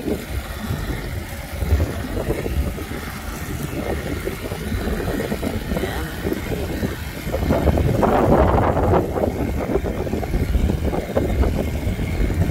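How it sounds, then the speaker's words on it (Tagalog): Strong wind of about 10 miles per hour at a boat launch, rumbling and buffeting against the microphone with continuous gusty roar that swells louder partway through, and no talking. "10 miles per hour ngayon yung wind."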